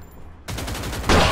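Rapid automatic gunfire from the MP5 Boxing submachine gun in the mobile shooter Free Fire, a dense burst of close, loud shots that swells even louder near the end.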